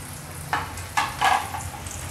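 Milkfish (bangus) sizzles in hot oil in a pan, with three sharp spattering bursts standing out over a low continuous frying hiss.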